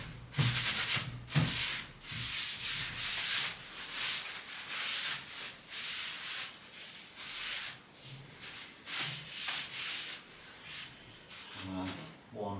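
A brush is swept repeatedly along a ski base after the wax has been scraped off, leaving a series of rhythmic bristly rubbing strokes up close, a dozen or so in quick succession.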